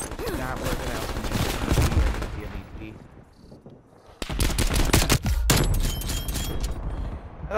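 Gunfire in Call of Duty Black Ops Cold War, loud rapid automatic bursts up front, a brief lull, then another intense volley of close shots, with players talking over the action.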